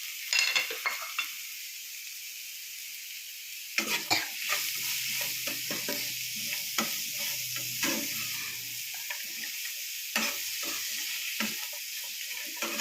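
Coconut sprout curry sautéing in a pan, a soft sizzle under repeated scraping stirs that come in short bursts, close up, with no voices.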